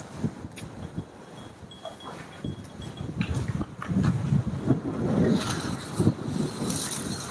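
Strong gusting wind sweeps in ahead of rain, a steady broadband rush that swells louder and rougher in the second half, buffeting the microphone with low rumbling bursts and no voices.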